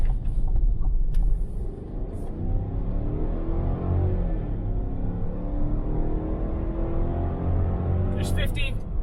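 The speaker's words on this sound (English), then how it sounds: "driving the 2021 Tahoe" A 2021 Chevrolet Tahoe V8 drives with a steady low engine and road rumble, loud and continuous throughout, with a brief higher sound near the end.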